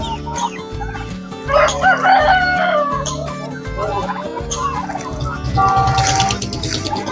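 Loud, overlapping turkey gobbles and rooster crows, with hens clucking, fill a busy poultry pen at the Maghi fair, with no talking.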